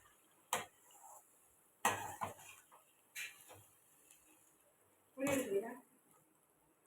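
A spoon stirs white pumpkin halwa in a pan, giving four separate scraping clacks spaced a second or so apart, close and moderately loud against a quiet room.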